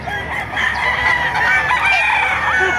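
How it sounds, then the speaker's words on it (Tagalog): Roosters crow loudly and continuously at a chicken market in Bocaue, Bulacan, several birds overlapping up close with steady clucking underneath. "Ang ganda ng mga manok dito."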